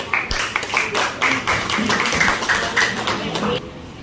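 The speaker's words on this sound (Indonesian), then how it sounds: "Boleh kita berikan tepuk tangan untuk kelompok 1, maju." A short burst of clapping from a small group in a classroom, uneven and brief, with a few voices murmuring underneath.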